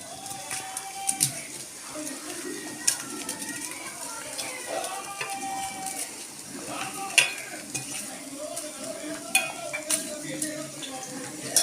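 Chopped plantain being stir-fried in oil in a pan, with soft sizzling and repeated scraping of a spoon against the pan while someone talks over it.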